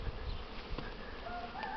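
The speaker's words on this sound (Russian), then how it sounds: "в этом улье у нас видно, что пчелы просто летают" Honeybees fly around an apiary hive during swarming season, a close, steady buzzing hum with individual bees' whines rising and passing near and farther off.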